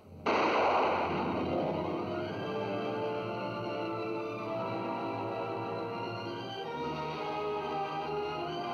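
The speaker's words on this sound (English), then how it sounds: "I was willing to shoot Captain Renault, and I'm willing to shoot you" Gunfire rings out in a Casablanca movie trailer, a sharp shot opening a long, echoing roar that holds under an orchestral score for several seconds.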